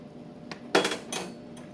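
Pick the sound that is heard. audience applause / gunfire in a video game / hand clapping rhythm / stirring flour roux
stirring flour roux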